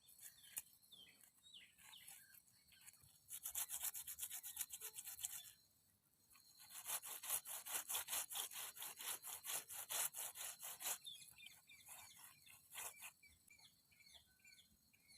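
A jalebi fish is scrubbed back and forth in sand to strip its scales, giving a steady, rasping scrape that runs in two long bursts with a short pause between, close and fairly loud, no talking.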